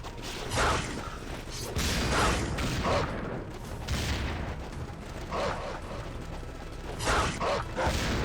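Enemy dogs in Ninja Gaiden 2 bark and snarl in repeated loud bursts over a busy, mechanical game soundscape of clanks and combat noise, with no one talking.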